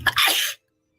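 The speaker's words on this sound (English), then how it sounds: "why didn't you give me a tissue before I sneezed?" A person gives a single loud, close sneeze: a short burst of breath, then a longer, harsh rush of air that stops abruptly and leaves silence.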